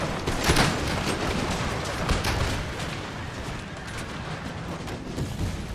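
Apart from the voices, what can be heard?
troops firing guns in a war video game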